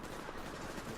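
Sustained rapid automatic gunfire from a video game build being hip-fired, a dense continuous burst filling the short stretch with no pauses and no talk.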